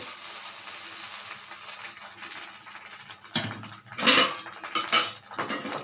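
Rice batter spooned into a pan for chitoi pitha: a quiet hiss fades, then a few close metallic clinks and scrapes of a spoon against the pan ring out near the end, no talking.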